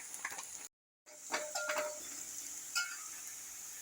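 Onions frying in a pan, a faint, close, continuous sizzle with occasional stirring scrapes and a brief gap of silence.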